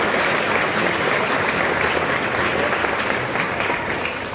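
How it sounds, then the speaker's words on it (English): Audience at a sci-fi convention Q&A with Christopher Lloyd applauding, loud and dense clapping that holds steady for the whole stretch and tapers slightly at the end. "Totally worth an applause, guys."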